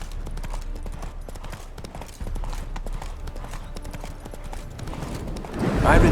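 Horse hooves clip-clop in a steady walking rhythm in The Witcher 3 video game, over a low background rumble, growing louder toward the end.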